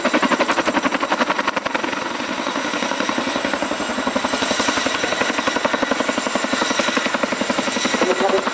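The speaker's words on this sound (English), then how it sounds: "Flown by the RAF, the Chinooks operated under Joint Helicopter Command in support of all three services" An RAF Chinook helicopter at an air show gives a loud, steady rotor chop: rapid, even thudding pulses with a whining engine tone over them, sustained and fairly close throughout.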